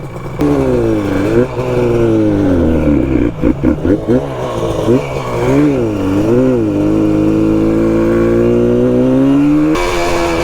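An RD350 cafe racer motorcycle engine revs continuously and loud, its pitch swooping up and down and repeatedly bogging and stumbling as if starved of fuel, with brief choppy sputters mid-way.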